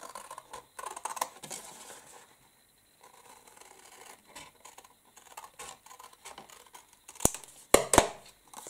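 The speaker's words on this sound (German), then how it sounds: "Und den schneide ich mir jetzt auch einfach mit der Schere aus." Scissors cut out a paper frame, sounding as a series of quiet, close snips and paper rustles with a pause, then a few sharper, louder cuts near the end.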